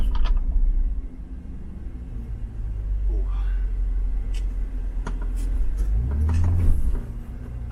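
A car crawls over a bumpy desert track in the Liwa sands, a low, steady interior rumble with scattered jolts and a heavier surge near the end, and faint voices in the cabin.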